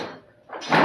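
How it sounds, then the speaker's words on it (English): A car door on a 2014 Chevrolet Impala swings and thuds shut nearby, a soft creak followed by a louder closing bump. "let me shut this door again."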